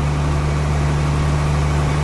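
A boat's new engine runs on its maiden voyage north from Auckland, a steady, close, deep hum with an even vibrating drone and constant water noise.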